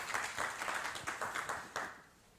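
An audience at an education briefing claps to welcome a presenter, a fairly quiet, even round of applause with distinct claps that fades out after about two seconds.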